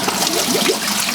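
Water gurgles and trickles through a gravel vacuum siphoning a fish tank, a close, steady, bubbly rush with no pauses and no talk over it.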